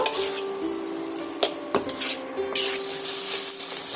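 Tomato, onion, ginger and garlic sautéing in a pan, with a steady oily sizzle broken by a few sharp scrapes and clinks of a stirring spoon against the metal.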